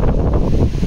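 Strong storm wind blasts against the microphone in a short, loud burst of rough, buffeting roar, with no voices.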